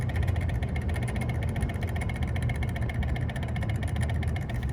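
A continuous mechanical drone and rattling hum from a walk-in cooler unit running warm and sounding like it is skipping a gear, with a rough, uneven vibration throughout and no voices.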